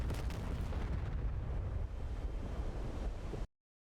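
A bomb blast on a ship in DCS World rolls out as a sustained, heavy rumbling roar with a broad, noisy texture, holding steady for several seconds before cutting off abruptly.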